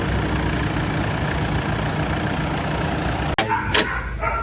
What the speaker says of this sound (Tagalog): Buhay ng compressor.